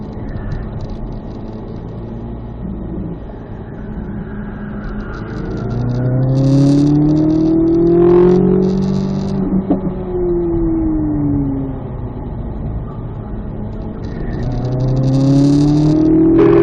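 A Corvette C8 Z06 powering around a race track during lap sessions, its engine rising and falling in pitch through repeated gear pulls, loud and close, with a sustained high-revving wail and no talk.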